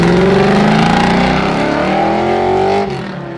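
A Pro-Touring Camaro SS with a stroked 427 LS3 and aggressive cam revs hard, the engine climbing to a loud, throaty pitch and then falling off as the throttle closes.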